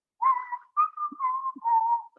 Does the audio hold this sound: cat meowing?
no